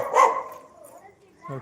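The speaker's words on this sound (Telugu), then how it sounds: "కుక్క వచ్చింది" A single sharp dog bark up close, followed by a quieter whine and a brief voice at the end.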